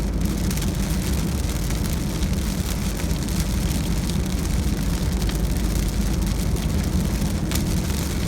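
Heavy rain pours down while riding a motorbike in sun and rain, a loud dense continuous hiss and patter with a low rumble underneath, steady throughout and close.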